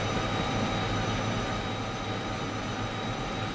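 A heavy freight train in Derail Valley labours uphill with a constant, loud low rumble and steady mechanical hum, unbroken and even for the whole stretch.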